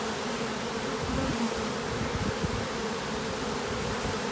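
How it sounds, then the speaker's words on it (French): Honeybees swarm thickly around an active hive in late February, making a steady, dense buzzing hum that holds at an even level throughout with no voices. "C'est une naissance d'abeille."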